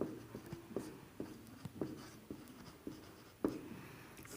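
Pen writing chemistry notes on paper, a close, quiet run of scratchy strokes and taps in an uneven rhythm, with no talk.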